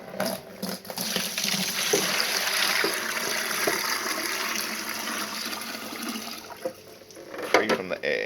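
Water from a 20-litre dehumidifier collection bucket pours out in a steady, fairly loud splashing rush that runs for several seconds and tapers near the end, with no talk over it.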